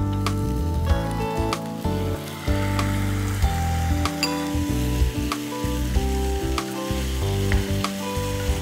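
Spiced potato vada filling with Schezwan chutney sizzling in a pan as it is stirred and sautéed, a steady close frying hiss with occasional scraping taps and background music.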